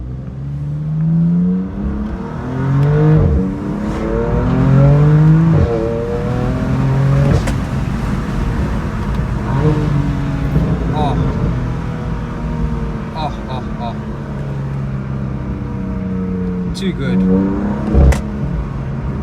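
A BMW M4 GTS or Jaguar F-Type SVR engine revs hard under acceleration from inside the car, with rising and falling harmonic sweeps through several gear changes, loud and close, and a voice speaking briefly near the end.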